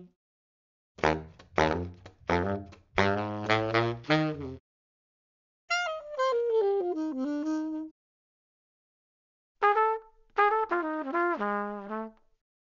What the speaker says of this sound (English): Trombone.